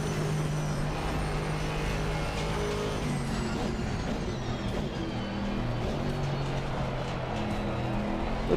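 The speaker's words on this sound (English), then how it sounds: "Yeah, this car sounds super nice." A Volvo in the Assetto Corsa Rally racing game: a loud, steady engine drone holds on without a break, close and continuous, with no voices over it.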